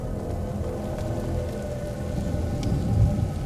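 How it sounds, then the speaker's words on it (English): Rain in the video game A Plague Tale: Innocence, a steady close patter of drops on surfaces, continuous and fairly loud, with a low rumble near the end. "Lucas, Hugo, stay out of the rain."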